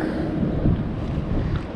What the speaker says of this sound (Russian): Ветер мешает, конечно.